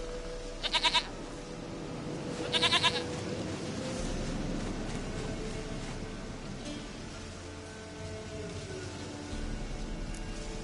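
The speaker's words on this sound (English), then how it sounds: "Goat of mine, dearest, sweetest goat." Goat bleating in The Witcher 3 video game, two short, clear bleats near the start and another pair a couple of seconds later over a steady low ambient game soundscape.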